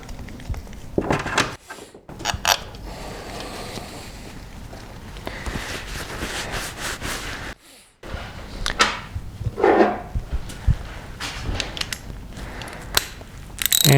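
Ratchet run down on blue-Loctited oil pump screws of a Harley-Davidson M-8 engine with an S&S 128 kit, steady close clicking and metallic clatter over about fourteen seconds with brief pauses, a voice speaking faintly at times.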